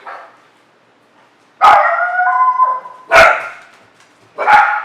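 Three loud, sharp dog barks, spaced a second or so apart, with a slight whining tail after the first, fairly close by and with no talking.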